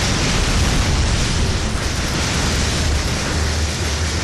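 Rocket explosions in the video game inFamous fill the clip with a dense, loud, continuous roar of blasts and rumbling noise, with no distinct gaps between them and no speech.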